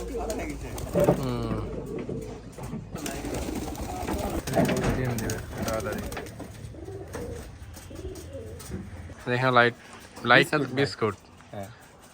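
Giribaz pigeons coo at a pigeon farm in bursts of throaty, rolling calls, with the loudest clear coos toward the end; people talk throughout, often over the birds.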